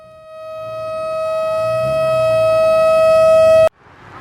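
A loud, steady fire truck siren wails with a rising drone, holding its pitch for several seconds before cutting off abruptly into quiet background noise, in Bukittinggi, Indonesia.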